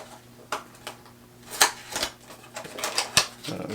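Cardboard packaging of a Hori D-Pad controller for the Nintendo Switch being torn and ripped open by hand, a series of close, sharp rips and crinkles with a few louder tearing bursts.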